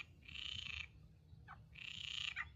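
Frog croaking near a path along a cycling route between Coimbra and Porto in Portugal, two long buzzy croaking bursts separated by a short chirp, fairly close and clear against a quiet background with no talking.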